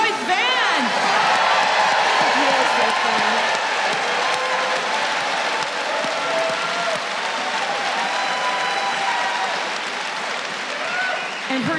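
A live show audience in Boston bursts into loud, sustained applause with scattered cheers and whoops, a dense wash of clapping close and full that tapers only slightly over several seconds, with some voices mixed in.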